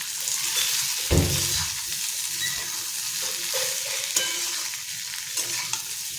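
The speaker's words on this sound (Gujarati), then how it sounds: "બધું જ આપણે સારી રીતે મિક્સ કરી લઈશું।" A spatula stirs a dry banana and potato sabzi with rock salt in a pan, giving a soft continuous sizzle broken by scraping strokes and a sharper knock near the start.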